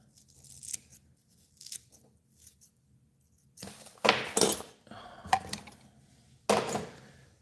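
Scissors trim deer hair butts on a diving mouse fly, giving quiet intermittent snips and rustles at first, then louder close-up cutting and crunching bursts, all without talk.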